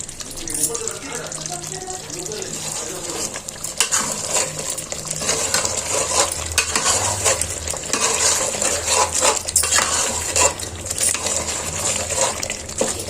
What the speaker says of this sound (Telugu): అంతా ఒకసారి కలుపుకోవాలండి